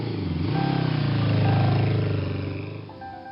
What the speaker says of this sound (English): Then he revved the engine.